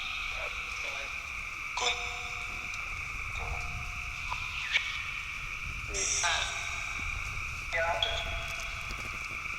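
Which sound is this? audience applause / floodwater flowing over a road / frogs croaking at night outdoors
frogs croaking at night outdoors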